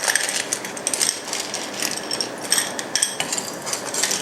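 A utensil clinks and scrapes rhythmically against a pot while rock sugar is stirred into boiling water for a Chinese herb and banana soup, with rapid, close, metallic taps throughout.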